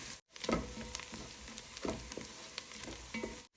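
Whole spices sizzle and fry in hot oil in a pan while cooking chira, a steady close crackle with stirring scrapes and a brief pause near the start; no voices.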